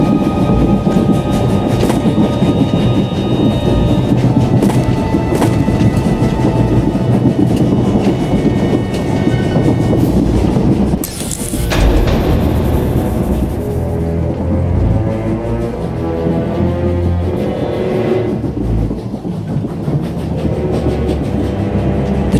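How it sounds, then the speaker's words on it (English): A moving train rumbles loudly and continuously, with steady clickety-clack of wheels over rail joints and a brief whooshing burst partway through, with no talking over it. "The train is on the move, and the traitor's on board."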